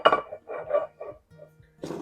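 A mini pie pan clinking and knocking as it is buttered, a few light metallic taps and rattles close by, then a louder clatter at the end.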